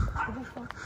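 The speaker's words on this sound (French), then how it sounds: "Tu l'as même pas entendu aboyer là." A dog gives a short, brief yip and whine indoors near a house garden, close by and mixed in with people talking.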